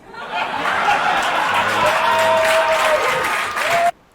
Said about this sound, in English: If they applauded this much,